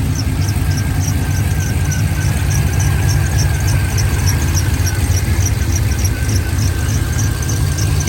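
Constant high-pitched belt squeal from the alternator on a turbocharged Silverado pickup, steady and loud over the low running engine on a dyno, with a faint rhythmic chirp throughout.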